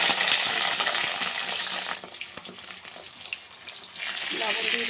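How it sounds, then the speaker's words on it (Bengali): Eggplant fries in hot oil with a loud, dense sizzle that eases for a moment in the middle and then swells again, with faint clinks close by. "আগে একটু বেগুনটা ভেজে উঠিয়ে নিই।"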